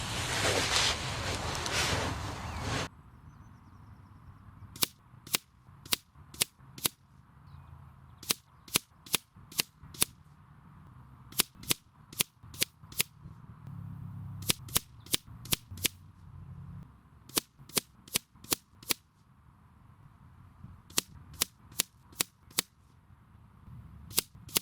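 Daystate Huntsman Revere .177 air rifle firing pellets at 40 yards, a long series of sharp, crisp cracks, singly and in quick clusters, over a quiet outdoor background with a brief burst of wind or rustle at the start.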